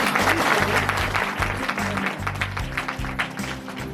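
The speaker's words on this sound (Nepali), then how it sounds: "चलो सब लोग ताली बजा देंगे।" Applause at a wedding engagement ceremony, a crowd clapping together steadily and fairly close, with a low rhythmic thump of music running underneath.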